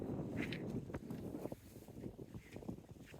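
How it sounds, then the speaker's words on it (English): Wind gusts across a sailboat at anchor in a swell-exposed anchorage in the Exumas, a low rumbling buffet against the microphone with faint sloshing, fairly quiet and without voices. "it's a little bit more windy and a bit more swell in our anchorage that we were planning on"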